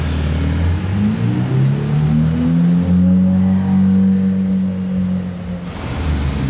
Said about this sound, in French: Enchaînement de deux Ferrari jaunes.